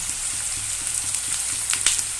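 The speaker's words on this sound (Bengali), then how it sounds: "পেঁয়াজগুলো ভাজা হোক।" Onions frying in oil in a large kitchen for chicken mince and chickpea ghugni, a steady close sizzle with soft stirring scrapes and no talk.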